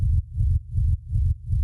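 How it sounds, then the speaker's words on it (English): Compressed, low-pass-filtered white noise sub rumble for a hard techno track, a dense droning low throb pumping in a steady fast pulse with short dips between beats, close and alone. "Pretty compressed white noise sub"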